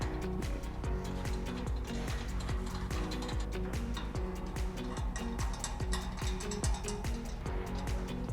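A ratchet wrench tightens bed rack bolts on a Nissan Frontier, a rapid, steady stream of clicking ticks over a constant low engine-like rumble, close and continuous with no talking.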